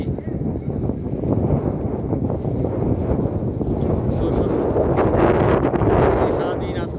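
Wind gusts through a Kalbaishakhi storm in the UAE, a loud rough roar buffeting the microphone and swelling toward the end of several seconds.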